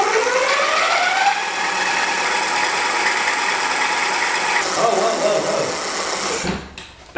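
A GhostCat F1 electric bike's hub motor is run at full throttle using the twist grip. A rising whine climbs in pitch over several seconds, then levels into a steady high buzz before cutting off abruptly near the end.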